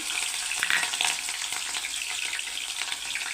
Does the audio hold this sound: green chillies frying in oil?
yes